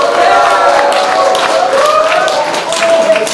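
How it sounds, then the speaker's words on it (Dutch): A lively audience at rap battle try-outs cheers, whoops and claps continuously, a loud, dense crowd roar with shouted voices mixed in throughout. "Maar ook bij de try-outs is het publiek actief,"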